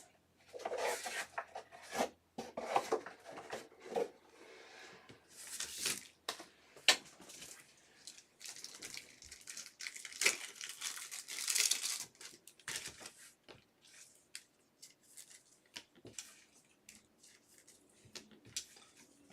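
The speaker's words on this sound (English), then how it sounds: "And we're just Rip up our first box here." A box of Panini football trading cards is ripped open, with close, scattered bursts of tearing cardboard, crinkling wrappers and rustling that stop and start over about twenty seconds.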